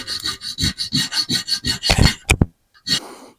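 A round chainsaw file rasps across a steel blank for a folding knife, a dozen quick, even back-and-forth strokes close up, then a short pause and one final stroke.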